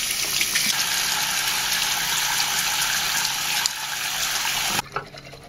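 Tap water runs steadily from a faucet as soaked makeup brushes are rinsed off, a continuous close gushing hiss that shifts slightly midway, then cuts off near the end.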